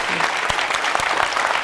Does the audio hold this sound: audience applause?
yes